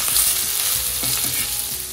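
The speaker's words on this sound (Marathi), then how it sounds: "आता आपले हे फायनल बॅच रेडी होते तळून" Pomfret pieces frying in hot oil, a dense continuous sizzle heard close up and fairly loud, with faint scraping stirs and no voices.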